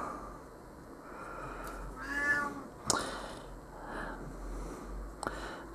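A hungry house cat meows insistently for food indoors, several close, drawn-out calls with soft sniffs between them.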